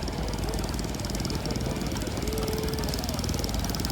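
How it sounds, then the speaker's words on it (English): Several old stationary engines run together at a tractor festival, a loud dense mix of rapid thumping beats and mechanical clatter, with a person speaking over them. "And the stationary engines."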